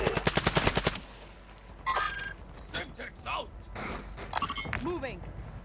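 Rapid gunfire in a multiplayer shooter video game, with sniper fire at the players: a fast burst of about ten evenly spaced shots opens, followed by game effects and chatter under ongoing voices.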